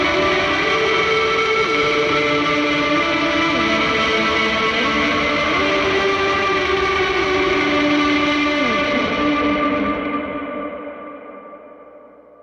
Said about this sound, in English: I'll throw on a little bit more of a boost and then also like my wide effect and just kind of send it a little more.